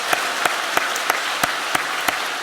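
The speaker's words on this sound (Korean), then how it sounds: "그렇게 은혜 주실 우리 하나님께 큰 박수로 함께 영광 돌리시겠습니다." A church congregation at a special early-morning family prayer service claps together, a brisk run of evenly spaced claps over a soft wash of crowd applause.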